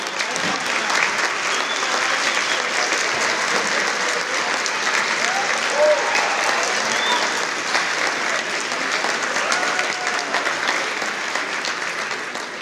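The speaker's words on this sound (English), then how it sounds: "we ask that you please stand so we can give you a round of applause" Sustained applause from a seated crowd at a city State of the City event honoring staff members, a broad, even wash of clapping that continues for over ten seconds with faint voices underneath.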